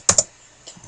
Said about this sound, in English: we're going to type in